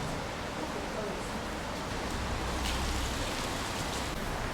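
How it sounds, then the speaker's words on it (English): Heavy rain pours down in a quiet Portuguese town, a dense, even wash of hiss that stays steady and moderately loud throughout. "it's raining so hard"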